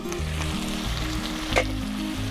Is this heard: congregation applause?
no